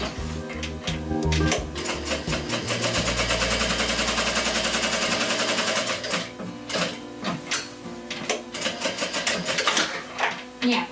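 A sewing machine runs steadily while stitching baby pants, its close mechanical whir holding for several seconds, then breaking into shorter stop-start bursts of stitching, with a voice faintly heard at times.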